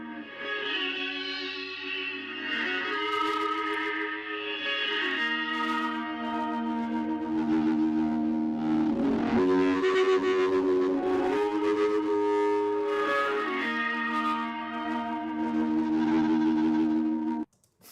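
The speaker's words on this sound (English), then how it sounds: "Here's the reversed reverb." Guitar notes swell in from nothing with a reversed reverb, building into smeared, washing tones that ring continuously before cutting off abruptly.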